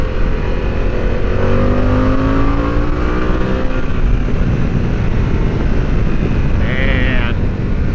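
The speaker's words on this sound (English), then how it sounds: "the more you pull on that throttle, the harder it pulls, and it just keeps pulling and pulling" A 2024 Harley-Davidson Pan America Special motorcycle pulling hard under throttle, a steady engine roar rising in pitch, heavy wind noise over everything.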